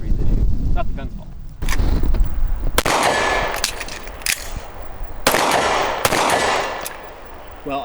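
Smith & Wesson M&P 2.0 pistol fired with a red dot sight, a few loud, sharp shots spaced out with ringing tails and rustling handling noise between them.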